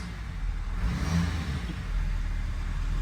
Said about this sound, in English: These guys are telling me to rev it, and I'm going like this.